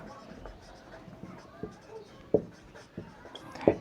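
A pen scratches out a physics formula on paper in short, quiet strokes and taps, with a few sharper clicks between them.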